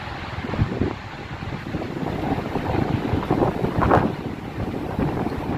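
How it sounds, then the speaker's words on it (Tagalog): Waterfalls at Plitvice Lakes in Croatia, a broad rushing roar of falling water heard outdoors, buffeted by gusts of wind against the microphone. "Oh my God, waterfalls."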